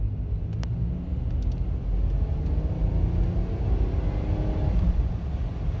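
A 1990s-era Oldsmobile 88 sedan engine pulls steadily under acceleration after a sensor replacement, a continuous loud low rumble and road drone that builds evenly without pause.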